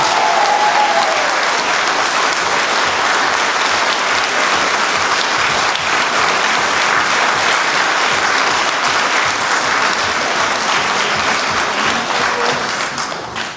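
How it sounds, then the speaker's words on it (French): Loud, sustained applause from a theatre audience at an amateur musical comedy show in Escaudain, a dense wash of clapping that carries on steadily for the whole stretch before fading slightly at the end. "Je vous demande d'applaudir bien fort"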